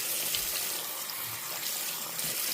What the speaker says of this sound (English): the way the water faucet is backwards when turning it on